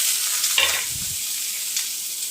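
Chopped onion dropped into hot oil for a paneer curry, a brief burst of sizzling and a soft stir, close, over steady background hiss with no talk.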